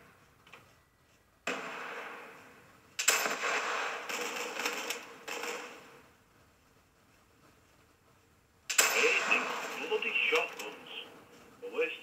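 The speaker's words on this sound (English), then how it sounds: "Rocket launchers aren't so bad if you can spot your enemy quick." Rocket launcher fire in an online gun-game match comes in loud bursts with crackling, rattling tails, separated by quiet gaps, and someone speaks between the blasts.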